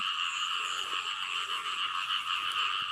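A dense, steady chorus of frogs croaking in Thai rice-paddy country, continuous and fairly loud, with no voices over it.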